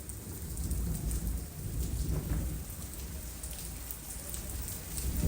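Steady rain falls outdoors with a low, deep rumble of distant thunder rolling underneath, a continuous wash of hiss and patter with no talking.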